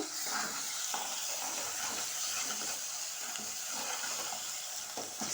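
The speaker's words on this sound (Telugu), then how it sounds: "అల్లం వెల్లుల్లి పేస్టు వేసుకొని ఇలా కలుపుకోవాలన్నమాట మంచిగా" Ginger garlic paste frying in oil while being stirred for an eggplant curry, a steady close sizzle with soft scraping strokes throughout.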